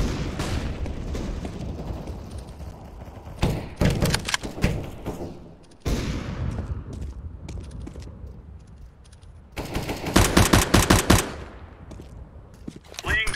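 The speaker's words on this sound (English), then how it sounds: "Flashbang." Bursts of gunfire and a sharp grenade blast in Counter-Strike: Global Offensive on the Mirage map, loud rapid volleys around the middle and a dense cluster of shots near the end, with thuds between and game radio voice callouts.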